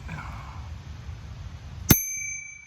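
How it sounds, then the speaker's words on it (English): A single loud, bright ding from a bicycle bell on a yard-sale bike, ringing out sharply and then fading over quiet riding noise. "Oh, I do have this bell I got,"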